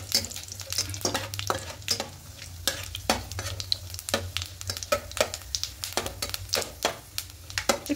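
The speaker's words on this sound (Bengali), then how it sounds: "এবার তেলের মধ্যে ফোড়ন দেবো 5 ফোড়ন আর 2টো শুকনো লঙ্কা দেবো" Panch phoron and two dried red chillies frying in oil for a ripe jujube pickle, a crackling sizzle under rapid, repeated spatula scrapes and stirs close by.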